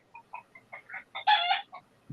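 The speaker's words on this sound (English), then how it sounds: "The rooster concurs." A rooster and chickens heard during a meeting, with a run of short clucks that builds into one loud drawn-out crow-like call and then a final cluck, close and clear against silence.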